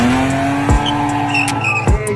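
A Chevrolet Opala in a driving video game roars under steady engine tone, with two sharp impact thuds at roughly 0.7 and 1.9 seconds, tire squeal and skidding around them, loud and close throughout.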